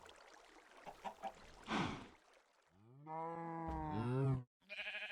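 Several drawn-out sheep bleats from Minecraft, close and loud, follow a few short knocks and a burst of noise, then a final brief call.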